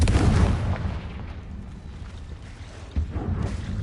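A Confringo fire spell in Hogwarts Legacy bursts with a loud, deep explosive boom at the start that rumbles and fades, followed by a second smaller impact near the end.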